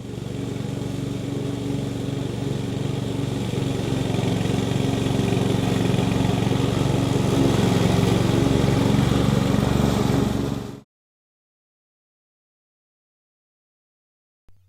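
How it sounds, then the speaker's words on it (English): A steady, droning ride-on lawn mower engine runs at a constant pace for about ten seconds, then cuts off abruptly into silence. "this ride-on lawn mower is suitable only for lawns on large area"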